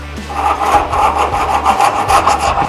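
A hand file from a Profinstrument PK-3000 body repair kit rasps metal back and forth in quick, regular strokes, loud and close, with a gritty scraping rhythm.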